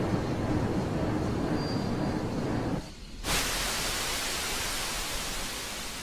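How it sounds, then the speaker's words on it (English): A loud, steady roaring hiss of a steam locomotive's safety valve blowing off in Train Simulator (Railworks). It fills the clip, drops out briefly near the middle and then resumes at full strength, with no voices. "our safety has just popped right as we got here"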